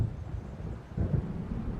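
Low rolling thunder of an approaching storm in the video game Alan Wake, a brief muffled rumble swelling near the middle, with no talk.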